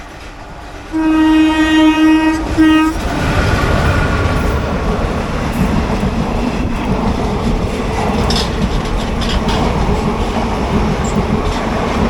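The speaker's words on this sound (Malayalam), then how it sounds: "Mumbai CSMT Mangalore super fast അഥവാ റോക്കറ്റ് എന്നറിയപ്പെടുന്ന ട്രെയിനാണ്." The Mumbai CSMT–Mangalore Superfast sounds a loud horn for about two seconds, then rushes past close by at a crossing with a sustained roar of wagons and wheels. No one speaks.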